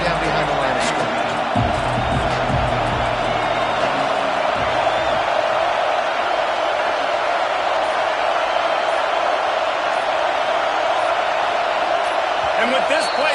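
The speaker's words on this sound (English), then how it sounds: "The roar of the crowd trying to fuel this defense to keep them pinned in their own end." A stadium crowd roars in the NCAA 26 college football video game during a game against Texas, a dense, steady, loud wash of noise that holds throughout with no clear pauses.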